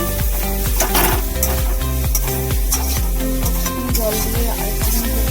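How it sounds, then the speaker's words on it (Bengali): Spices and ingredients stir-fried (kosha) in a pan, with loud steady sizzling and repeated scraping, clattering strokes of a spoon against the metal throughout, close and continuous with no talk. "কষানো হচ্ছে"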